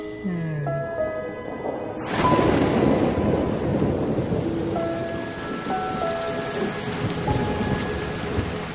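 Rain and thunder in a Thomas & Friends animated scene: a sudden loud thunder crash at about two seconds opens into steady, heavy rainfall that continues to the end, with soft music tones underneath.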